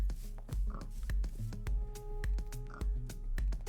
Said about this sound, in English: Nothing except for pigs around here.